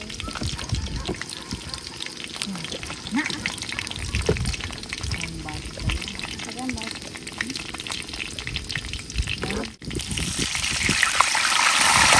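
Water is poured and splashes for outdoor hillside cooking, a continuous close trickling and gushing with scattered clinks and taps throughout, and a brief gap before the stream swells louder toward the end.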